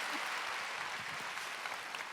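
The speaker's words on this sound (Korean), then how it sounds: "박수 쳐줘요." Church congregation clapping during a Wednesday worship service, a brief continuous patter of many hands heard from a short distance with no pauses.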